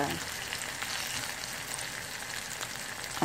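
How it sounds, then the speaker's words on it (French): Chicken livers fry in a pan close by, giving a steady, dense crackling sizzle that carries on without a break. "Et je fais frire"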